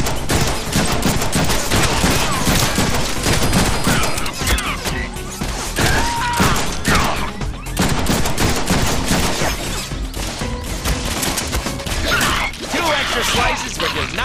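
Dense gunfire fills the Deadpool video game for over ten seconds, rapid and continuous bursts of shots and impacts with mechanical clatter mixed in.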